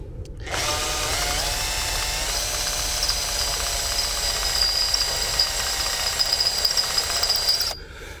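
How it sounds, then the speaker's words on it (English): Power drill running a 9 mm bit during a 12 m tower build, a steady high whine holding for about seven seconds from a sudden start to a clean stop, close and loud with no talk. "So this is a 9 mil drill bit, which we will gradually move up to 16."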